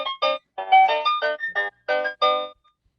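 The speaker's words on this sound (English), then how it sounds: "That's my doorbell." A household doorbell plays a cheerful electronic jingle: a quick run of bright chime tones in separate short bursts, fairly near and alone, ending in silence.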